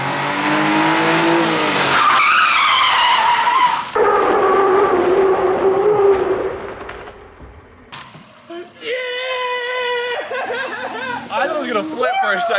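A JDM mini truck skidding under aggressive driving, tires squealing in long loud howls that rise and shift pitch, cut by a short lull before more squealing, with people chattering nearby.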